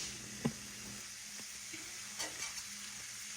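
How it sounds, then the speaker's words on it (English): Food frying steadily in hot grease in a home kitchen, a constant soft sizzling hiss with a few light clicks and taps of utensils near the pan, no talking. "We'll let those fry just a little bit."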